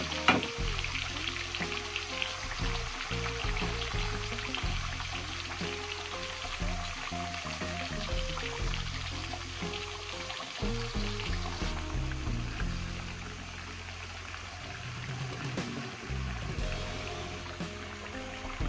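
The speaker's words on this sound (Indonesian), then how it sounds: "Kita goreng semuanya, ayam dan beserta semua bumbunya." Steady sizzling of chicken and spices frying in hot oil, a dense continuous crackle with shifting low bubbling, no voices.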